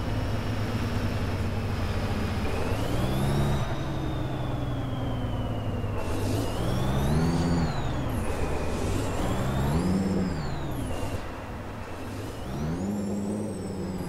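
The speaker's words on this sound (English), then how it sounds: "And this truck is pretty fast too." A modified Peterbilt 389 flat top sleeper truck drives steadily with its engine droning. The pitch rises and falls through several gear changes and revs as the truck speeds up, with no one talking.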